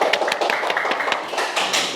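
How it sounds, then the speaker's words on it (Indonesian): A group claps by hand in a room after a speaker asks for applause. The claps are close, sharp and uneven, and continue steadily through the whole two seconds without talk. "Beri tepuk tangan dong"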